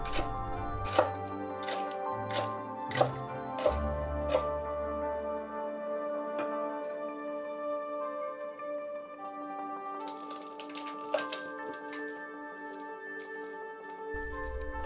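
Kitchen knife chopping the green part of a leek into thin rounds on a board, a run of sharp, evenly spaced cuts early on, then quieter scraping and handling under soft music.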